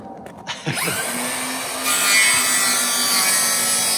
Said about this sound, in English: he's using a circular saw to cut through.